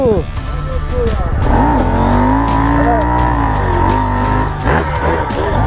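A car engine revs and drones steadily, its pitch rising and falling, loud and close, with voices talking over it.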